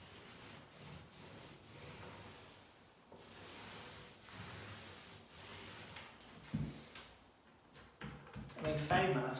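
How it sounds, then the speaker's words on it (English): A four-inch roller lays satin finish onto a door, giving a soft continuous rubbing swish with periodic strokes near the hinge and handle, under steady talk and some handling clatter toward the end. "bring your roller down as tight as you can"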